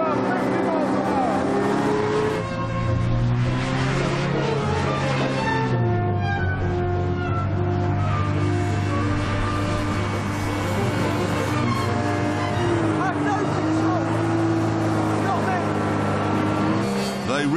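A small two-stroke hovercraft engine runs continuously at high revs, a loud buzzing drone that rises and falls in pitch as it rides over the ground off-road, close and sustained throughout.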